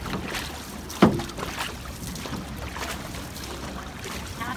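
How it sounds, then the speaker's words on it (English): Outrigger canoe paddled on open ocean water off Kona, Hawaii: a single splashy paddle stroke stands out over steady wind and water wash, fairly close, with no talking. "Catherine and C2 paddling here."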